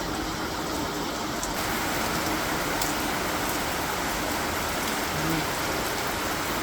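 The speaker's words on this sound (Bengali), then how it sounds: "এখন আবার বৃষ্টি হচ্ছে আর বৃষ্টির মধ্যে মেলাটা আর কি অবস্থা দেখাই" Rain pours steadily over an open-air fair ground at Amravati, a dense, even hiss with faint distant background activity and no voices.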